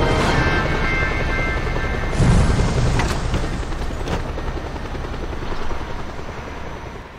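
A helicopter in the video game Just Cause 2 roars close by with a dense, constant rotor and engine wash, broken by a few sharp booms or impacts partway through.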